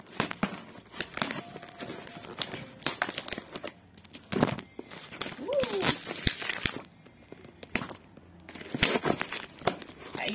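Packaging around commemorative 2 euro coins being cut and torn open, close crinkling, crackling and ripping in uneven bursts with scattered handling noises and brief squeaky tones between.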